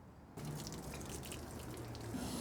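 Water from a hose fills a water tank and starts to overflow, making a constant broadband splashing rush that begins abruptly and continues steadily at moderate level, with no talking.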